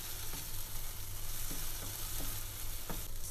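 Tomato paste sautés with onions in a pan, a close, steady sizzle broken by a few soft stirring taps and scrapes, with no talk over it.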